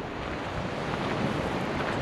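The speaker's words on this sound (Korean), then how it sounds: "이쪽은 바다입니다." Sea surf on a windy shore rolls in a continuous, loud rushing roar, with strong gusts buffeting the microphone and no voices.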